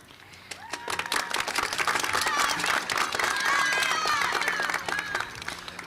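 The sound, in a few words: audience applause at middle school promotion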